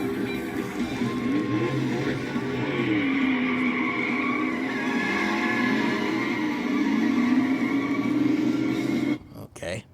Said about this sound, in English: I would still prefer the regular car sound because this sounds so much better.